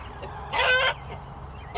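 Chickens at a coop at nightfall give a single short burst of clucking near the middle, close and fairly loud against quiet farmyard background, with a faint extra call near the end.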